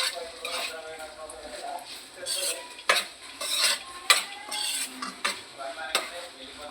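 Pasta is stirred through oil in a pan for spiced milk pasta, with repeated scraping and clinking strokes of a utensil against the metal over a light sizzle, close and fairly loud.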